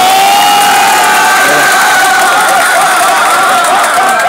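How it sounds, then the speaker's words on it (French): A large crowd at an open-air community gathering in Zattry cheers loudly and continuously, a dense wash of voices and shouts with no pause. "Il faut applaudir pour eux."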